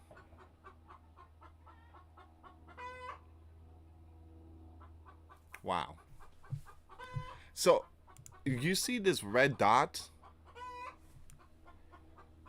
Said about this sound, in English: So if you hear chicken in the background,